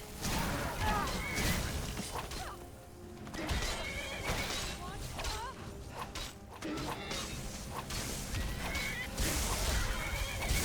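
Horse neighs in the video game Skyrim, set among loud combat sounds with crashes and clattering, with a gameplay voice talking over much of it.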